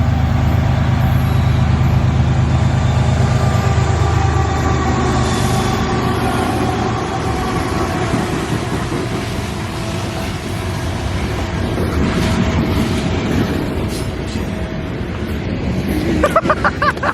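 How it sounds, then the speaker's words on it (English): A southbound coal or coke freight train rolls steadily past, a loud continuous rumble of wheels and cars with a brighter rattling swell near the end. "another train came through, a southbound coal or coke train"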